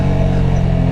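Honda Grom small motorcycle engine at a steady loud drone during mock races at a track, held close and constant for a brief moment with no voices.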